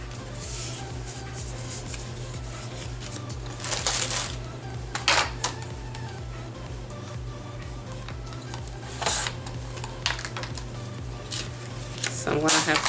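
Paper being folded in half while making scrapbook paper clip embellishments, heard as a few soft crisp creasing and rubbing swishes over a steady low hum, with a person talking throughout.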